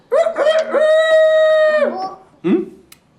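A rooster crows loudly and close, one long drawn-out call followed by a shorter squawk after a brief pause.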